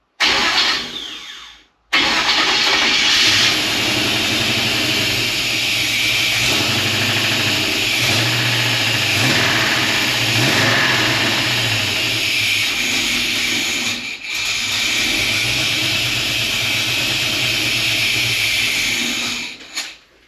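A 1956 Chevy long-roof wagon engine catches after sitting unused for years and runs steadily and loud with a rough, ticking exhaust leak, following a brief cranking burst and a short gap.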